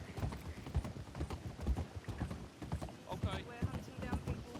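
Horse hooves in a Red Dead Redemption-style roleplay video game clip-clop at a steady walking rhythm, with faint creaks and mechanical clicks, while a voice talks quietly underneath.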